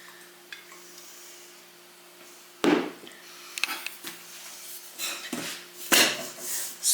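Vegetable oil is swished around a bowl as soft yeast roll dough is flipped over, giving soft scraping and rubbing strokes with a few sharper clatters against the bowl, close and alone.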